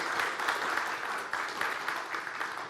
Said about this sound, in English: another round of applause for David Hill